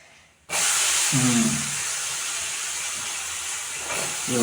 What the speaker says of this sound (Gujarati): હવે અંદર દૂધી નાખી દેશે